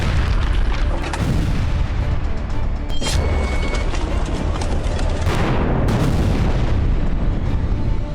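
Repeated explosions from Israeli air force bombing in Gaza, loud booms rolling one after another in a dense, continuous roar with sharp blasts and rumbling aftershocks.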